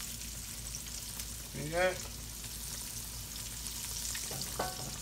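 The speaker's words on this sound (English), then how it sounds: "We're gonna throw our squash in there" Squash frying in reused oil, a steady sizzling hiss running throughout, with a brief louder stir or splash near the middle and a voice speaking briefly over it.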